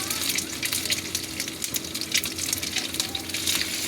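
Tap water running for washing plates in a home kitchen, a steady gushing splash with small clatters throughout, close and fairly loud, with no talk.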